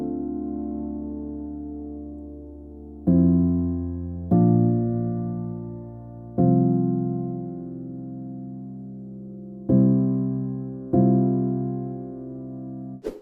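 Melodic dubstep chord progression on a lush synth pad, sustained chords changing about every second and a half, each with a sharp attack and slow fade, played alone with no voices.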